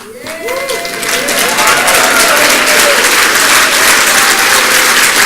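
A large audience at a 2011 Norway main event applauds to welcome an elderly speaker onstage, loud dense clapping and crowd noise swelling in and holding steady, with tonal sounds running underneath.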